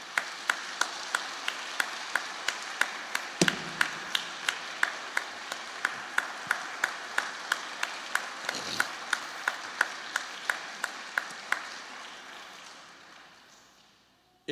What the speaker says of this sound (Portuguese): Pode aplaudir, pelo amor de Deus.